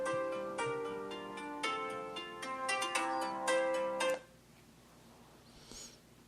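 A mobile phone ringtone plays close by as a bright repeating melodic jingle for about four seconds, then stops abruptly, leaving quiet room tone.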